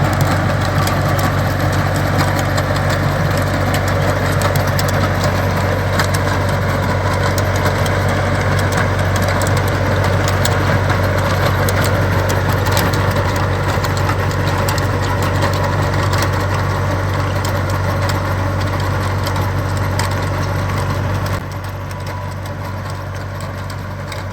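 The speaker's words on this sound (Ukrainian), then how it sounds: "Ось такий у нас трактор." A loud, steady diesel tractor engine drone with constant rumbling vibration as it runs a rotary tiller on a strawberry field, unbroken for a long stretch before dropping slightly in level near the end.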